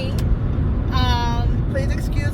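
Steady road rumble and engine drone inside a moving car, a continuous low roar with a brief tonal whine, while a person talks over it.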